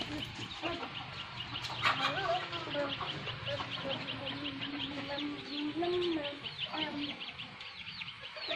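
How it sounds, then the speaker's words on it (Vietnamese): Chickens chasing one another, clucking and squawking in quick, irregular bursts close by, while a person's voice talks over them now and then. "Gà đuổi nhau kìa."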